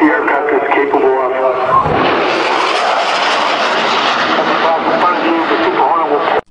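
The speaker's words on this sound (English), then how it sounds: "Keep in mind that the speed that the Super Hornet is approaching is only a fraction, or only half of what the aircraft is capable of." A Boeing F/A-18 Super Hornet jet fighter approaches with a loud, swelling roar that builds and broadens steadily for several seconds before cutting off, while a voice talks over it.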